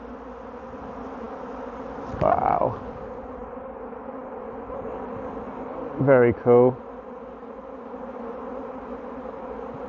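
A swarm of honey bees fills the air with a continuous buzzing drone, joined by brief voices exclaiming over it.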